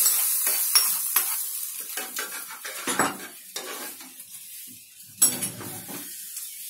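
Hot tempering is poured into cooked dal with a brief sizzle, followed by clattering pot and spoon stirring sounds and clinks of utensils, close and fairly loud, with no voices.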